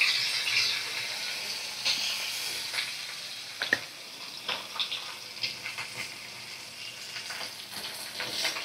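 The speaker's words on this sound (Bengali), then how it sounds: "সব মাছগুলো আমি ভাজা করে নিয়ে তারপরে ফিরে আসছি" Fish pieces frying in hot oil in a kadai, a steady close sizzle with intermittent crackles and spatter pops throughout.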